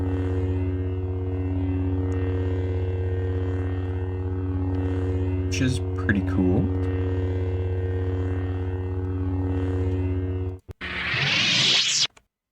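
A VRChat lightsaber idles with a steady, low electric hum full of layered harmonics. It runs continuously while a voice speaks briefly, then cuts off abruptly into a short burst of brighter noise near the end.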